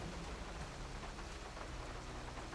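Rain pours in the video game GTA 5, a dense, even wash of noise filling the short stretch with no voices.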